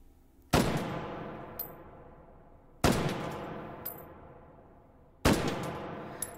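A Galil AR rifle firing in the VR game H3VR: three loud, evenly spaced single shots, each a sharp crack ringing out into a long decaying tail, with a faint metallic ping after the first.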